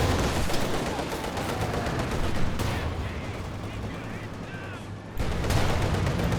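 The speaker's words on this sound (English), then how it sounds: "this IL-2 strafe is terrible" An IL-2 strafing run in Company of Heroes 2 delivers dense rattling machine-gun fire and impacts that roll on continuously, mixed with battle noise and a brief cut partway through.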